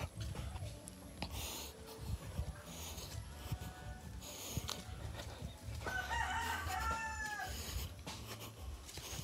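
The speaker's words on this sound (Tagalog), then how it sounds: "Kadali kami manok dito." A rooster crows and chickens cluck in a rural Philippine countryside setting, the crow rising clearly mid-clip over scattered rustling and background noise, fairly close but not loud.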